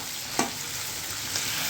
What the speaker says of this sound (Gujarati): આ માવો વઘારો છે